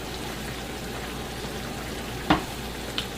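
Puttanesca sauce thickened with flour simmering in a pan, a steady soft bubbling sizzle throughout with a sharp utensil knock near the end and another faint one after, close and fairly quiet.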